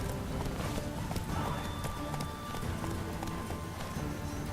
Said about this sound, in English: Does his horse look like Roach?